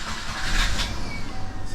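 A Subaru Impreza L (GC8) converted to a 5-speed manual starts up, its engine catching and settling into a steady mid-pitched running rumble, loud and close throughout the short stretch.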